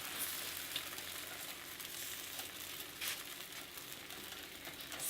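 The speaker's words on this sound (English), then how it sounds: "Carefully lift your roti and place it on that hot plate." Roti sizzling and frying on a hot plate over medium to high heat, a steady close crackle with a few brighter pops, no talking.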